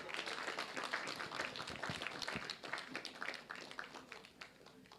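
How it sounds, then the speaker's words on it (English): Audience clapping at a launch event at the Parliament of Uganda: a faint, distant patter of many hands that thins out toward the end. "Can you put your hand and clap for her?"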